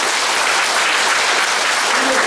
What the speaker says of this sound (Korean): 이 가정 한번 박수 한번 해주시고